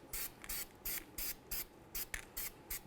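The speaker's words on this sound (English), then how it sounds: "let's coat our mating surface of the bearing with some copper never-sees" Copper anti-seize sprayed onto the mating surface of a wheel bearing during a rear hub replacement on a 2007–2014 Ford Edge, heard as about ten short, even hissing bursts close to the microphone.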